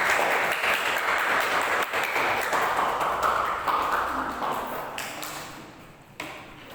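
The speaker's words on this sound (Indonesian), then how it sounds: "Beri tepuk tangan untuk kelompok 3." Classroom applause for a student group after a presentation, a burst of clapping that gradually thins and fades, with a few sharp taps near the end.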